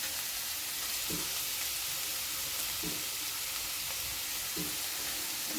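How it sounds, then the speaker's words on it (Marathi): Leafy kardi (safflower) greens sauté in hot oil with red chili powder, a steady close sizzle and crackle broken by a few soft thumps of stirring at regular intervals. "त्याला छान आधी असं परतून घ्यायचं तेलामध्ये भाजीला"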